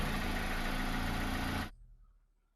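A car engine with the check-engine light on idles with a steady, loud rumbling drone, then cuts off abruptly, leaving near silence.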